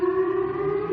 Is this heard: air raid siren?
yes